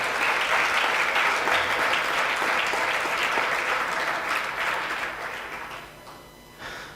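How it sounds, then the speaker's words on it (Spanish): A church congregation applauds steadily during a worship service, a dense, continuous wash of clapping that carries at full strength for most of the stretch before tapering slightly near the end. "Dale un aplauso a Cristo en esta hora"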